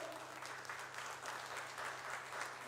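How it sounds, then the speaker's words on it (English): A church congregation claps at a Resurrection Day service, a dense, even patter of many hands, soft and somewhat distant, continuing without a break. "Let us give a hand clap for that."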